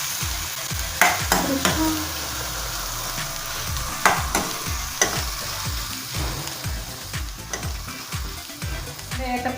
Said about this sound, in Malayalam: ഈ ഏത്തപ്പഴം നന്നായിട്ടൊന്ന് വഴണ്ട് വരുന്നത് വരെ നമുക്കിതൊന്ന് ഇളക്കാമേ